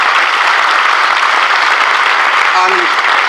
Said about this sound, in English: stand up and take a round of applause for that investment